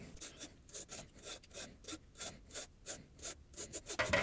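Repeated rasping scrapes of a utensil across the bottom of a container after making a homemade liquid, about a dozen strokes in a steady rhythm, close and fairly quiet, with no talking.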